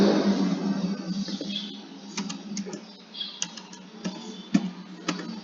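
Keys tapped on a computer keyboard while entering input into Proteus circuit software, a brisk irregular run of light clicks, close and fairly quiet, with no talking.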